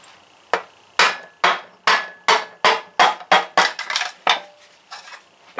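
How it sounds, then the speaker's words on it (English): A wooden hammer taps a cast iron Briggs and Stratton 16 hp engine block about a dozen times, with sharp ringing knocks in an uneven rhythm, close and loud, and no voices. "And I just have a wooden hammer."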